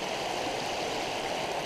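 A creek in a forest after rain flows with a steady, close rushing wash of water, continuous and even with no voices.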